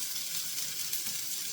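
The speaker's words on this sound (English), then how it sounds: "You hear it sizzling from the water." Frozen potatoes sizzle in oil in a pan, a steady, fairly quiet hiss of frying with crackle and spatter from the water, continuous with no talk.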